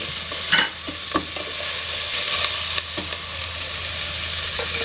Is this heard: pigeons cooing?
no